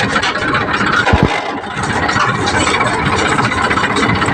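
A tractor engine chugs slowly over field embankments, loud and rough, with a constant rattling rumble and a couple of brief low thumps.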